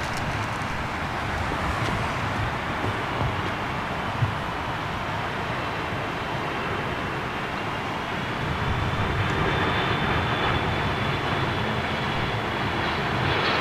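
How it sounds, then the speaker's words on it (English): A Turkish Airlines Airbus A330 on approach at London Heathrow, with a steady, loud engine roar and broadband rumble holding for the whole stretch, swelling slightly toward the end as a rising whine emerges. "Here's a Turkish 330"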